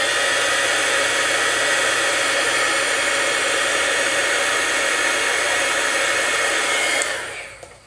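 Craft heat tool blowing hot air to melt material for a favor box, a loud close steady roar of rushing air that holds evenly and then winds down and cuts off near the end, with no talking.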